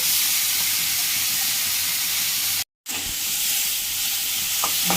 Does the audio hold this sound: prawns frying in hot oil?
yes